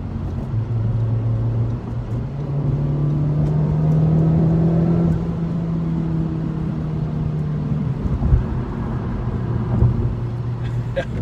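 A 2019 Honda Civic Type R with 306 horsepower pulls away hard, its engine rising in a steady droning climb heard from inside the cabin, the pitch sweeping upward then settling, with small knocks and bumps.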